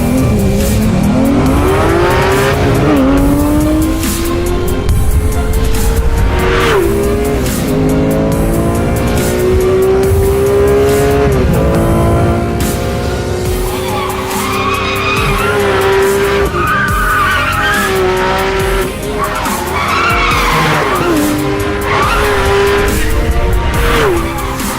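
A Porsche 911R engine revs to 4,000 RPM and launches on a clutch dump, climbing through several gears with rising pitch and brief tire squeal, loud and close throughout.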